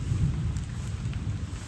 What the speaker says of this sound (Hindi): ऊपर से बारिश आ रही है छमक छमक करके